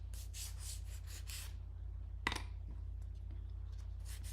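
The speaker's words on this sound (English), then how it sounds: "We're just going to sand these down a little bit." Sandpaper rubbing over quilted fabric-covered Christmas star ornaments at a craft table, a soft scratchy scrubbing in several short strokes, then a brief louder scrape, with quiet pauses between.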